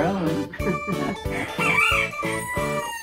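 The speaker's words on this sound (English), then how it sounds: "I don't know why he's crowing." A rooster crows in the early evening on a homestead, its strained, drawn-out call loud and close, broken by clucks and voices talking over it in short overlapping bursts.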